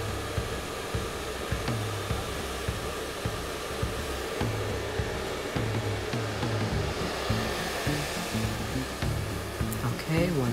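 A blow dryer runs continuously at close range, a steady loud whooshing roar as it heats fibers, with faint handling sounds underneath.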